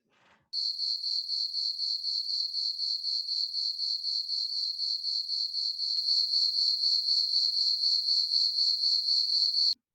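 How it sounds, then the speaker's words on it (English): Crickets chirp as a sound effect, a loud steady pulsing trill that starts abruptly, runs without pause and swells slightly partway through before cutting off, alone with no talk. "Crickets."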